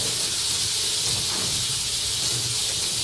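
Chicken pieces sizzle in hot oil in a pan while being browned on both sides for a chicken bread sandwich: a loud, steady, close-up hiss that runs unbroken throughout.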